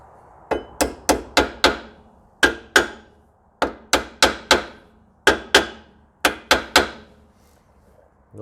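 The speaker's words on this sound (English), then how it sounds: "I'm using a wooden mallet because I don't want to, don't want to damage this surface here." A wooden mallet taps a part into the rear end of a 2001 Ford Expedition, striking in close, loud clusters of three or four sharp knocks with brief pauses between groups.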